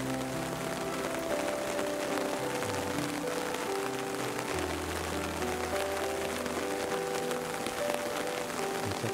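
Steady rain falls across a rose garden in a flower park, a soft, even hiss that runs without a break from start to finish, with faint tonal bits underneath.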